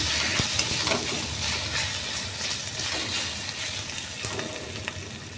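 Sautéing spices with turmeric powder and salt in a pan for a pointed gourd dish, a continuous close sizzle broken by irregular spatula scrapes and taps on the pan, with no talk.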